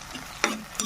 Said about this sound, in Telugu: టమాటాలు వేయించుకొని